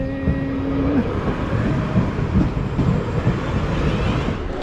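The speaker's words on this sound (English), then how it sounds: "Train!" A train passes near Lymington on the English south coast, a steady rumbling roll of wheels on rails with a brief horn-like tone at the start, heard from a bicycle with wind noise throughout.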